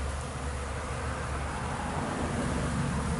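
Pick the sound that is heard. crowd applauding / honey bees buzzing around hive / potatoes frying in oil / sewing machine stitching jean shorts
honey bees buzzing around hive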